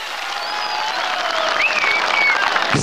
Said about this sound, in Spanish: Un aplauso para nuestro presidente.